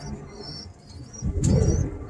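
Birmingham Roller pigeon hens coo softly up close, a low murmuring call that swells louder in the second half alongside a faint higher chirp.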